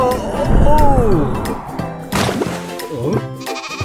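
A cartoon sheep in an animated children's nursery rhyme gives a long, wavering bleat up front, followed by clattering thuds and sound effects, with voices speaking throughout.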